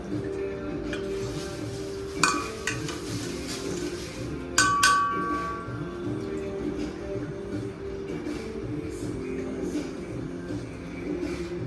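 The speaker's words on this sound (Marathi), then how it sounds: "आता हे 2 to 3 मिनिट्स गॅसवर स्टर करायचं" A spatula stirs and scrapes a vegetable dish in a pan on a gas stove, with occasional sharp metallic clinks over a steady low background.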